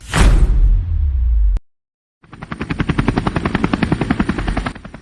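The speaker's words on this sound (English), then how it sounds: "now the police helicopters were moving over the Royal Museum" A police helicopter's rotor chops rapidly and steadily after a loud whooshing burst and a brief silence, the thudding pulses strong and close overhead.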